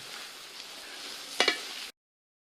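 Fried raw banana poriyal is stirred in a pan, a soft steady sizzle running under a sharp scrape of the spoon partway through before it cuts to silence.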